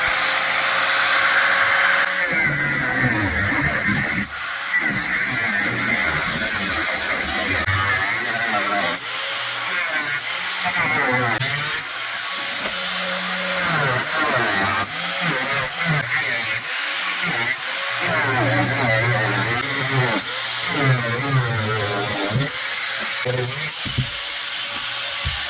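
An angle grinder cutting metal on a Bombardier vehicle while making a front access panel, a loud, continuous harsh whine that wavers in pitch as the load changes and drowns everything else.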